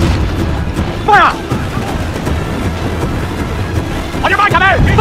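Heavy ship cannons boom in a pirate naval battle in Assassin's Creed 4, a loud, continuous rumbling barrage with shouted voices breaking through twice over the din.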